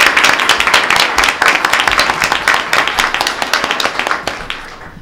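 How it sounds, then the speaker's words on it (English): A school board meeting audience applauds, a dense, steady burst of many hands clapping close and loud for about five seconds before thinning out at the end. "I want to give a round of applause to thank all of the very qualified candidates"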